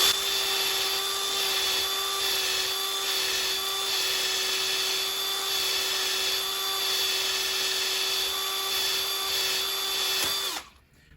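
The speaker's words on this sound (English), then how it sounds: "get the bolt in a drill with a wire brush." A power drill fitted with a wire brush spins steadily against a bolt from a Jeep Patriot/Compass CRD engine, a loud, close whine held for about ten seconds before winding down.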